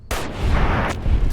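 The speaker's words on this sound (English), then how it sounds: "Maybe I can just get a really big crit with my hunting rifle if I wait it out." A hunting rifle firing .308 rounds in a video game, with sharp, loud, close shots cracking out one after another and a booming tail between them.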